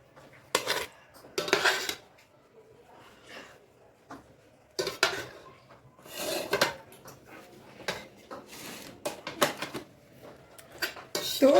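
Plates of chana pulao being filled and set down, with clinks and clatters of dishes and serving spoons coming in irregular bursts separated by quiet gaps, close by.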